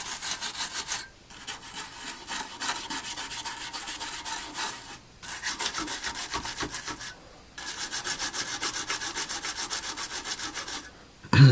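Rhythmic rubbing and scrubbing against a Nintendo Red Tent arcade monitor's circuit board while cleaning it with isopropyl alcohol, a steady close-up scrape in long strokes broken by a few short pauses.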